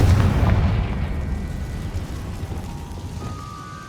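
A Confringo spell explosion in Hogwarts Legacy, a heavy booming blast at the start that rumbles and slowly decays into a fading roar with scattered debris crackle.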